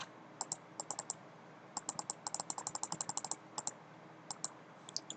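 Mouse clicks and keyboard typing sound close and crisp, in quick clusters of taps with short pauses between, over a faint steady room hiss.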